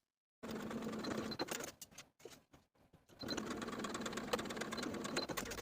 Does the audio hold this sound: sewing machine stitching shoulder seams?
yes